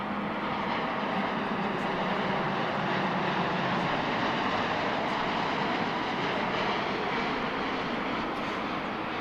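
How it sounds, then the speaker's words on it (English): A Japan Airlines Boeing 787 Dreamliner landing at DFW International Airport gives a steady, even jet roar that holds throughout at moderate distance, with no voices. "It's a Japan Airlines Dreamliner coming in"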